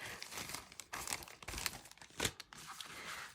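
Fussy cutting paper for a decorated accordion journal produces close, crinkly rustling and snipping crunches in uneven bursts, quiet and without speech.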